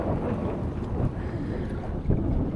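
Wind buffeting a microphone on a boat while catfishing on the Mississippi River, a steady low rumbling gust with soft water wash, continuous and fairly loud throughout.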